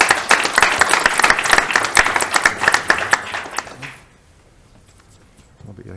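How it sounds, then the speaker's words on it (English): An audience at the ICCR grand reopening event applauds loudly and steadily for about four seconds, and the clapping then drops off to near quiet. "Please give him a round of applause as well."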